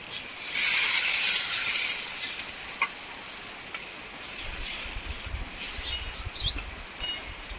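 Water hits a hot fried spice paste for a village egg curry cooked over a wood fire, bursting into a loud close hiss that fades to a quieter simmering fizz with occasional ticks.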